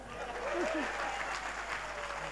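Applause from an audience at a Hindi comedy poetry gathering, a steady wash of clapping lasting the whole moment, moderately distant, with some murmured voices mixed in.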